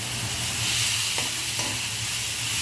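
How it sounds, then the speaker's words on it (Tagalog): Boiled mung beans sauté in a hot pan with a steady, close sizzle and a few soft stirring scrapes. "Yun ang ating gigisa muna."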